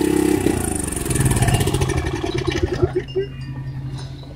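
An LP-fuelled generator engine runs with a loud, rough chugging and then sputters, slows and winds down to a stop within a few seconds, close by.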